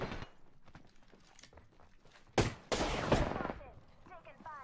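Gunfire from the video game Apex Legends, a brief shot then a dense loud burst of rapid automatic fire lasting about a second, with quieter game noise and scattered sounds before and after.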